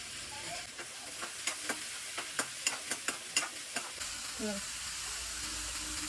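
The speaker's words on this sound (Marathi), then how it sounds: "मी शिमला मिरची पण फ्राय करणार आहे" Capsicum frying in a little oil in a pan, a steady soft sizzle broken by a rhythmic series of sharp spatula scrapes and taps at close range, with no talking.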